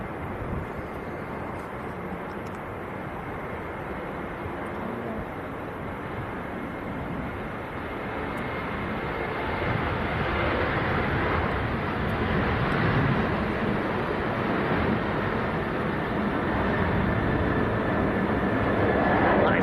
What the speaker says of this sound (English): Okay, aircraft on the roll.